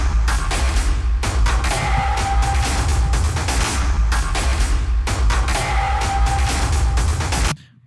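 A heavy, distorted industrial drum loop from the Hell Drums library pounds steadily with booming low thumps and noisy crashing hits, repeating twice before cutting off abruptly.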